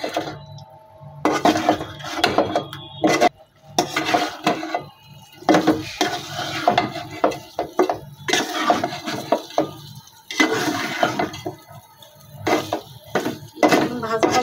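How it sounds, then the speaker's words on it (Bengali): Rooster meat being stir-fried with spices in plenty of oil, village style: bursts of spatula scraping and metal clattering against the pan come in uneven waves with short quiet gaps, and a voice talks at times. "এখন আরেকটু কষাই নিই মশলার ভিতরে সুন্দর করে"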